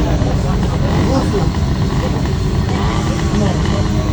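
A small combustion engine on a motorized bicycle at a loudness contest runs steadily and loudly up close, a continuous buzzing drone throughout.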